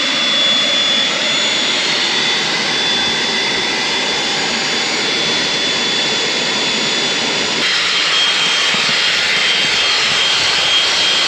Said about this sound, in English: Let's get on to vacuuming that out.